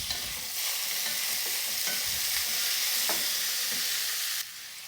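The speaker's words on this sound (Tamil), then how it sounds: "இதில் 2 தக்காளி பொடியாக கட் பண்ணி போட்டுக்கலாம். இதையும் நல்லா சேர்த்து வதக்கலாம்." Onion, green chilli and chopped tomato sautéing in a pan for a cauliflower potato kurma, a steady broadband sizzle with soft scraping stirs throughout, close and fairly loud, easing slightly at the end.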